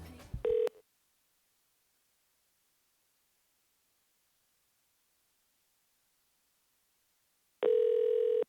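Telephone tones heard while a caller connects to an assembly meeting line: a brief steady tone, a long stretch of silence, then the same tone returning near the end.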